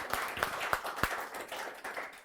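A few sharp hand claps from an audience welcoming a teacher at a classroom event ring out in a slow, steady rhythm, then thin into scattered, softer claps.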